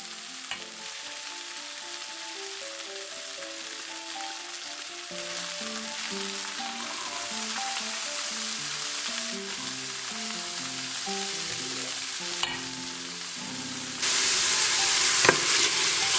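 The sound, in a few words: soaked rice sautéing in a pan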